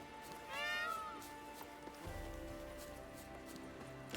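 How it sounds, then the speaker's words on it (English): A peacock in the video game The Witcher 3 gives a single short, rising, cat-like wail close by, and quieter ambient game sounds and faint hoof-like clops follow after it. "That's a peacock's."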